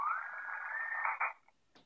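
HF radio receiver picking up interference that resembles an Ethernet network during a power outage: a steady, buzzy tone with a faint rising whistle holds for just over a second, cuts off, then a brief faint chirp follows.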